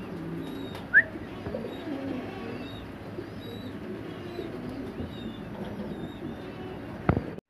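Andalusian pigeons at a pigeon farm make soft, low cooing in the background, faint and intermittent, with a couple of sharper chirps and clicks near the start and end.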